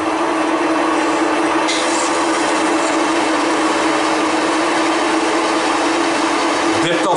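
Milling machine cutting a 20-tooth gear on an arbor press build, a continuous loud grinding drone with a steady tonal hum that holds throughout, ending in a sharp clatter.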